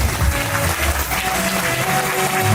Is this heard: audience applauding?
yes